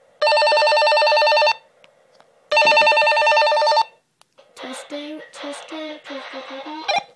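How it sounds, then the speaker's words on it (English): A walkie-talkie call tone rings as its button is held down: two loud, steady electronic tone bursts close to the mic, followed by a rapid warbling, stepping melody. "It'll ring several times until you let go of the button."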